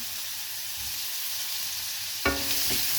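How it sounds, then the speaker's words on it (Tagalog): Onions sautéing in a hot pan for a vegetable and egg dish, a steady soft sizzle that jumps to a louder, crackling hiss near the end as more food hits the oil. "Gigisahin natin lahat ito guys. Lulutuin natin ang lutong-luto. Sibuyas."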